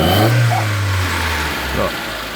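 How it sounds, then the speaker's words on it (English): Mitsubishi Lancer engine revving up from a low idle, a strong low rumble rising and then dropping back, close and loud, with a voice speaking over it. "if I give it a rev"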